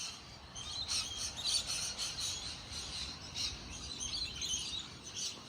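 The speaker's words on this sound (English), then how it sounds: "the noisy neighborhood aspect that people often are concerned about is purely related to birds right now" Birds chirp steadily from all around a quiet suburban garden in Byford, a continuous high twittering chorus at moderate distance with no pauses and nobody speaking.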